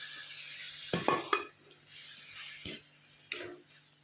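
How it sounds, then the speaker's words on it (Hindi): Minced meat and tomatoes stirred and roasted in a pan, with a few distinct spatula scrapes and clinks against the pan over a faint sizzle, quiet between strokes, no speech. "अब इसे मिक्स करेंगे और इसकी भुनाई करेंगे।"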